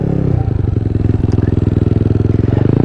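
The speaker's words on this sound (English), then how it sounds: "this is the official first test ride of the Honda Ruckus" A Honda Ruckus scooter engine runs close by on a first test ride in spring, a loud, steady low putter with a fast even pulse that briefly picks up at the start.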